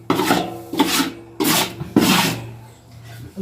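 Puffed rice being stirred into melted jaggery for laddoos, giving repeated scraping, rasping strokes of a spoon in a pan, about four bursts in a rough rhythm, close and fairly loud with no talk.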